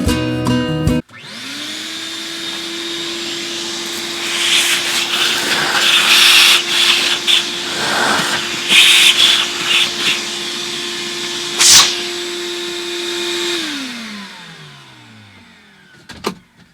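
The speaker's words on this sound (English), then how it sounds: "Let me get the vacuum. Got to clean that stuff out. It's going to get loud." A vacuum cleaner starts up and runs loud and steady at close range, cleaning gunk out of a Ryobi lawn mower, with rattling and sucking bursts as debris is drawn in, then winds down.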